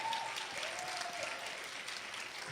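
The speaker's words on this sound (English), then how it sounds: "Y'all give them another round of applause." An audience at an inner beauty pageant gives another round of applause, a steady, fairly soft wash of clapping heard from a distance that carries evenly throughout.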